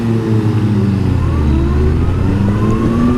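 A 2014 Kawasaki Concours 14 motorcycle with a big engine accelerates steadily, its loud, close engine note rising in pitch under constant wind rush, with no talking.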